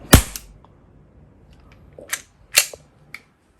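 A gas blowback airsoft pistol fires several sharp, close, loud cracks. One shot comes first, then a pause, then two more, with a fainter click at the end and no voices.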